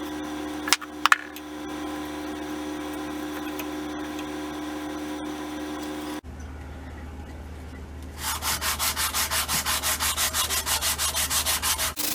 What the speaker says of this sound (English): when you sand like this, you always want to use a block